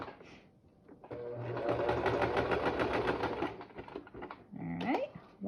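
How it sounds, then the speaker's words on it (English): A sewing machine stitches across the end of fabric mask pleats, a steady close whirring run lasting a few seconds, then a brief high squeak as it stops. "we're going to sew just across the end to get those pleats set into place"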